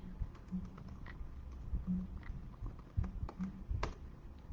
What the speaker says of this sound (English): I'm going to type something to see.